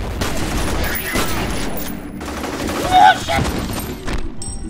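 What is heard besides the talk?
gunfire from the video game F.E.A.R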